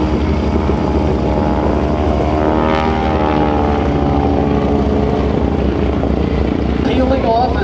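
Loud droning propeller aircraft engines overhead at an air show, a steady roar with rising and falling pitch as the planes pass, no talking.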